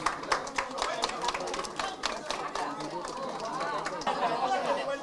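Audience claps to celebrate a cake cutting at a hijab-inclusive beauty pageant launch event, a steady patter of hand claps with crowd chatter and voices running underneath throughout.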